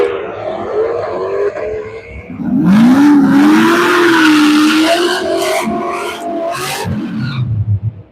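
Drag racing cars launching down the strip, including a Chevrolet Corvette, with a loud rising engine roar and tire screech that sweeps upward and then trails off into rumbling and popping.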